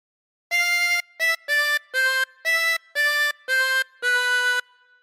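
A chromatic harmonica plays a slow phrase of All Through the Night as eight distinct sustained notes with short gaps, close and clear, then fades to quiet.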